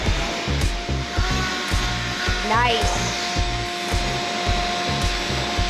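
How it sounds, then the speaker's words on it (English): Vacuum cleaner running during dusting in a renovation of a small modern Victorian home, a steady whirring drone with a rising whine midway, while people talk over it nearby. "Vacuum. Vacuum."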